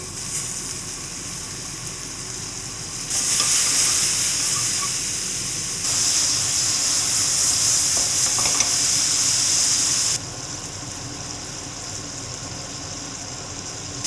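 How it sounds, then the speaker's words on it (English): Mushrooms hit a pan of olive oil with a loud, steady sizzle that swells sharply after a few seconds, then eases back, with faint stirring beneath and no talk. "at this point, it's time to cook mushrooms. You gotta move quick though. So, a bit of olive oil, and then in."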